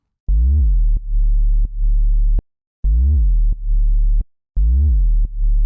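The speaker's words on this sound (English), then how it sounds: "this is what the actual sub sounds like" A sub bass synth patch from Ableton Operator with pitch automation plays deep, pure sine-like notes, each opening with a quick pitch swoop, in three repeated phrases separated by short gaps.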